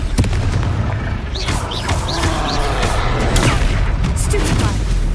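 A Confringo blasting spell goes off in a video game battle as a loud, booming explosion with crackling bursts, layered over continuous combat noise and scattered voices.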